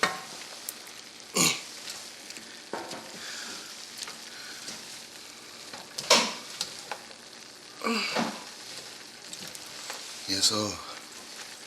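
Cabbage and sausage stirred in a pan, with a steady low sizzle under the whole stretch and a few louder scraping bursts from the stirring; a voice speaks briefly.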